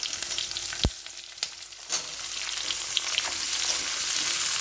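Onions frying in oil until reddish-brown, a steady hissing sizzle that swells after a sharp knock and a few light clinks from the pan, close and continuous without talk.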